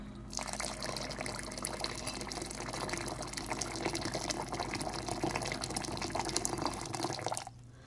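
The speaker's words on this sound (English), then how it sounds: "so now I'm going to add hot water" Hot water gushing steadily from a hot water maker into a jar for kombucha, a continuous close pouring and filling sound that stops abruptly near the end.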